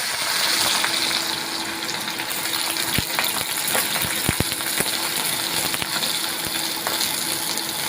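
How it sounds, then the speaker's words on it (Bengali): Potato pieces fry in smoking-hot oil in a pan while a home-style okra, potato and prawn dish is being cooked. A continuous bubbling hiss carries scattered sharp crackles and pops, staying close and fairly loud throughout. "তেলটা গরম হলে আমি আলুটা ভাজা করে নেব। গরম হয়ে গেছে, ধোঁয়া উঠছে। এবার আমি এর মধ্যে আলুগুলো ছেড়ে দেব।"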